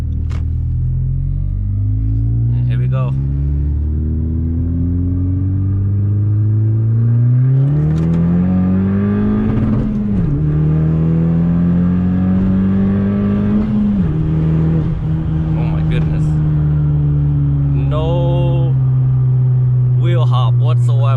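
Honda fitted with a 27WON rear motor mount, accelerating hard in sport mode heard from the cabin: a loud engine drone climbs steadily in pitch through the gears, with brief dips at each shift and a voice talking now and then.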